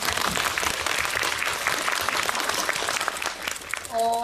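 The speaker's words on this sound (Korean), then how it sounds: "그 박수 한번 부탁드릴게요" Audience applause at a film festival screening talk in Incheon, steady and full for about four seconds, fading as a voice begins at the end.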